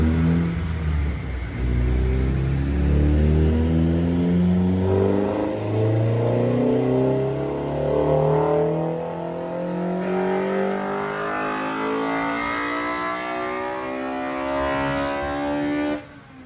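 A Honda B16 engine with combustion chamber work revs hard on a dyno and climbs steadily in pitch, roaring loudly and continuously before cutting off abruptly at the end.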